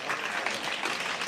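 A crowd at a North Karnataka comedy and mimicry show bursts into loud, continuous applause, with many hands clapping in a dense, even wash that holds its volume throughout the brief stretch.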